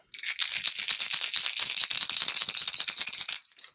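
Dense, bright rattling of small loose BBs shaken rapidly inside a hard fishing lure body, close and loud, continuous for a few seconds with no voices.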